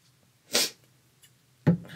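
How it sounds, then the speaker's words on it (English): Two sharp sneezes, close and loud, about a second apart, with quiet between them. "I started sneezing"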